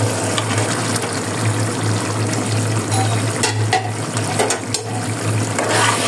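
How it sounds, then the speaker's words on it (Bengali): Tengra fish drop into a sizzling tomato spice masala and fry with a steady hiss, a low hum running underneath and a few clattering stir or placement sounds toward the middle. "এখন আমরা এই ট্যাংরা মাছগুলো এই মশলার ভিতরে ছেড়ে দিব"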